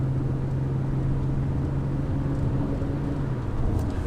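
A 2003 Infiniti G35 sedan with a five-speed automatic heard from inside: a steady low engine drone and road rumble, loud and continuous, with no distinct shift breaks and no talking.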